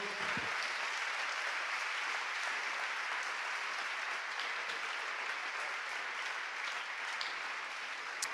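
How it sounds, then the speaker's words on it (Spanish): A church congregation applauds during a Spanish-language service, a continuous, even roar of clapping that holds steady for several seconds and sounds somewhat distant. "dele un fuerte aplauso al Señor"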